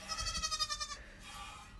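A goat bleats on a farm during milking, a wavering, nasal cry close by that fills the first second and then fades into quiet farm background.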